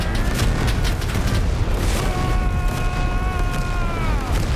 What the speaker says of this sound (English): Drop this grenade